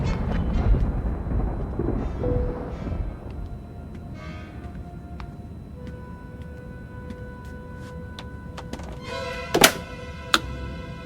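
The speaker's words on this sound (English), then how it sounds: "It's a storm." A thunderstorm effect in a radio drama aboard an airliner: rumbling thunder rolls low at first, then scattered tones and two sharp cracks come near the end, with no talking.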